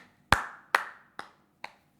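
Four sparse, hesitant hand claps from a small group of photographers in a quiet room, each a sharp crack fading quickly, spaced about half a second apart and growing softer.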